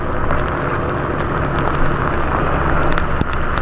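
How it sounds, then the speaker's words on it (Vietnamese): Heavy rain pours down on a street in Nha Trang near Cho Dam market, a thick, constant roar of downpour with pattering drops and traffic mixed in, loud and close throughout. "trời mưa rất là lớn luôn mưa mịt mù luôn"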